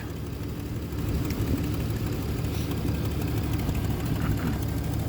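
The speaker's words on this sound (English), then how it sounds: "it sounds like a couple lifters are stuck" A big block engine in an OBS street truck idles steadily with a low rumble, a faint rapid ticking from stuck lifters running underneath.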